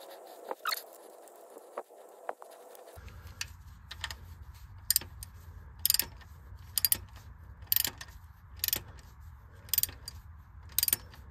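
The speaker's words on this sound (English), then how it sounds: "I'm just going to wipe that off, I think, and put the sump plug back in." Ratchet tightening the sump plug on a Land Rover Discovery 4, a faint run of clicking ratchet strokes at regular intervals over a low steady background hum.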